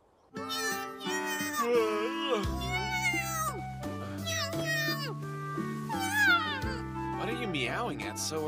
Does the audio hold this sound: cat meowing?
yes